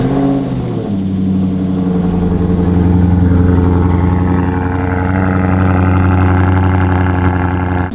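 A Maserati 4.7 V8 with a straight-pipe exhaust rumbles close and loud, rising from a deep idle burble into a sustained, steady throaty drone.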